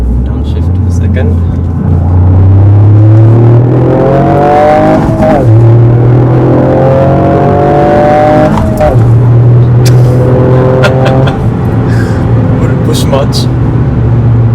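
A 2020 Toyota GR Yaris Morizo Selection engine revs hard on a track, climbing in pitch through the gears with brief drops at each shift, loud and close from inside the cabin while people talk over it.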